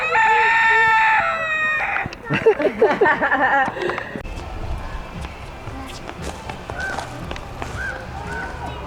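A rooster crows once near the start, a bright drawn-out call, followed by rustling outdoor movement and scattered soft sounds.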